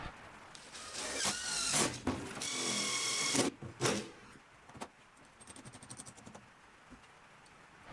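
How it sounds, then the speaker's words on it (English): A power drill whirs in several short bursts, with a longer run in the middle, drilling a hole in a woodstove boiler tank, followed by light clinks and rattling of small parts. "I'll just drill a hole"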